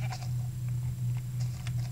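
Minecraft sheep bleating in short nasal calls over a steady low hum of game ambience, with no talk.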